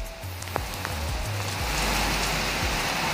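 Heavy rain pours steadily in a dense, continuous hiss in Erbaa, Tokat, with a low rumble underneath and a few sharper drips standing out near the start.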